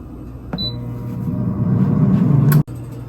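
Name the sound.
air fryer running, started for 8 minutes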